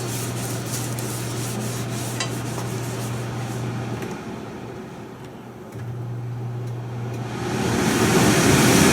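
On a smoking hot griddle, oil is rubbed off with steady, scraping, close-up strokes, while a low electric hum runs beneath and briefly drops out midway.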